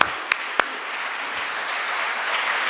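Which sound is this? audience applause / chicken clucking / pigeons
audience applause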